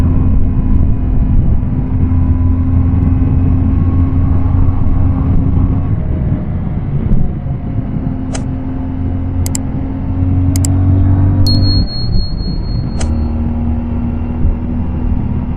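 CFMoto 450MT motorcycle engine under way, a steady low droning rumble with a strong sustained hum that shifts pitch briefly around a gear change, continuous and close throughout with faint high clicks over it.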